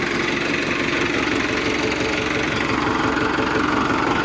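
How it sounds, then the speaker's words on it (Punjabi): A tractor engine runs close by, a loud continuous diesel chug with a steady knocking rhythm throughout. "ਆਹ ਟਰੈਕਟਰ"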